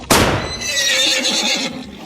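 A loud, close horse whinny: a sharp rising onset followed by a long, shaky, descending neigh lasting about two seconds.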